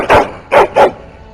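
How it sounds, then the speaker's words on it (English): A hound barks in the fantasy video game Dragon Age: Origins, three loud close barks: one, then a pause and a quick pair, with no talk over them. "He woke me up with his barking."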